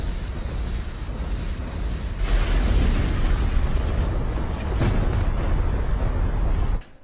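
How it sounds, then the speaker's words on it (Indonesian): Explosions tearing through the scene in the film Grid as heat blasts erupt everywhere: a loud, continuous broadband roar that swells after two seconds and stays dense until cutting off near the end, with no talk. "sehingga menyebabkan ledakan panas di mana-mana"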